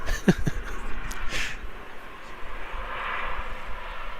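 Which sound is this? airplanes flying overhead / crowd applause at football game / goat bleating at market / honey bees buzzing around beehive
airplanes flying overhead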